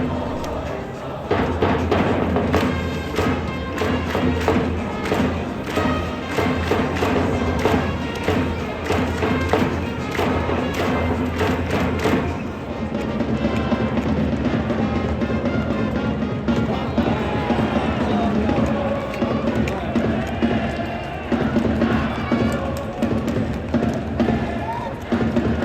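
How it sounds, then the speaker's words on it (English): Fans at a Japanese baseball stadium sing and chant in unison with the cheering band, with drums and brass thumping along steadily throughout, loud and continuous with a massed crowd. "Each player gets individual songs that the fans can sing and cheer to"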